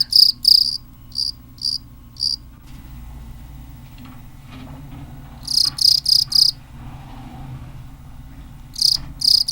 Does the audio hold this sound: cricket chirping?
yes